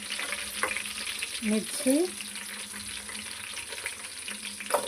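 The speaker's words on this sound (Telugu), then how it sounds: "క్యారెట్ ముక్కలు అన్నీ వేసి వేయించుకోవాలి." Onion, chili and carrot pieces frying in a pan for bagara rice, a steady close sizzle with brief stirring scrapes partway through.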